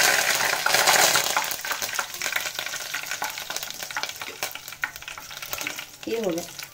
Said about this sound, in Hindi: अब इसमें करी पत्ता करी पत्ता एक दस पत्ता है दस से पंद्रह करी पत्ता है